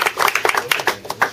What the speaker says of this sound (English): which needs a nice little round of applause